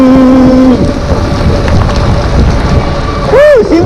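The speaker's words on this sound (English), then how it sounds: "Seems like it's raining a little bit harder right now." Heavy rain pours during an e-bike ride, a loud steady wash of rain and wind noise with a few tonal whines and wobbling squeals from the ride, and no clear talking.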